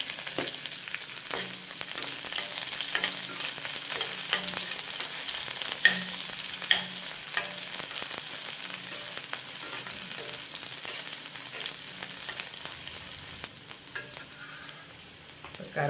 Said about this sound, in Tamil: இப்போ சின்ன வெங்காயம் சேர்த்துக்கலாம்.